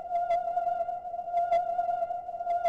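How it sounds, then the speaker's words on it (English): A looping glow sound effect for a shining emerald hums as a steady, bright electronic tone, with soft sparkling shimmers recurring every second or so, quiet and alone. "Here we have the glow loop again."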